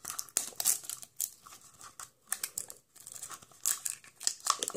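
A plastic toy package wrapper is torn open along its tear strip, with close, loud crinkling and ripping in uneven bursts separated by brief pauses.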